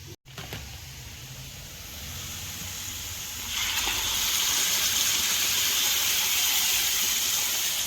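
Masala tipped into potatoes frying in a pan for potato korma sets off a loud, steady sizzle that swells after a few seconds and holds as a broad, continuous hiss with no talk.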